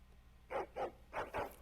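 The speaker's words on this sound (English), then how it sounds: "why are you angry barking? And a hound amongst them." Hound in Dragon Age: Origins giving four sharp barks in two quick pairs, close and loud over a low background hum, with no speech.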